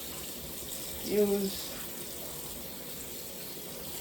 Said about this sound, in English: I'm going to use cool water to cool it down so I can manage it.